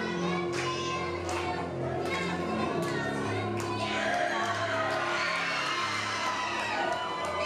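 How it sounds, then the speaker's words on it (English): A wrestling crowd at a WCWO Shockwave show cheers loudly and steadily for Jax, with whoops, shouts and scattered clapping throughout, and voices talking faintly beneath the roar. "the crowd firmly behind Jax tonight"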